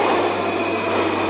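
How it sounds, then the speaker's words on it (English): Moscow Metro subway train arriving at a station, a continuous loud rolling roar with a steady hum and no voices over it. "the next train is arriving"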